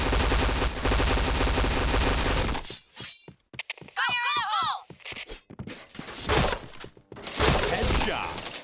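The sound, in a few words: gunfire from a mobile shooter video game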